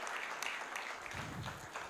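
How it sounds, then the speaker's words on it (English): Conference audience clapping together after a speaker is introduced, a quiet, distant and uneven patter of applause heard on its own. "another big round of applause for Miss Elizabeth Ntege"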